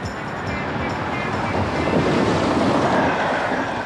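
A train runs on rails through the Tyrol, a continuous loud rumbling roar with rattling wheel noise, close and steady throughout.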